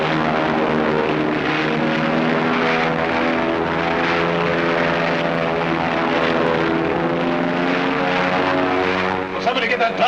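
Propeller airplane taking off, a loud sustained droning engine roar held throughout while people talk urgently over it.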